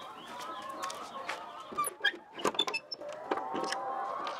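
Chickens on a Ugandan poultry farm of over 2,000 birds, with scattered clucks and squawks over a steady background hum and some mechanical noise, moderately close.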